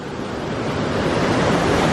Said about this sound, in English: More rapid water